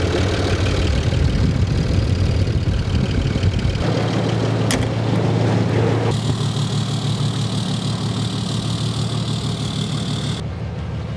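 A 2019 Ram 3500 pickup's 6.7 Cummins diesel engine cranks and settles into a loud, steady idle with a low rumble, close up and continuous throughout.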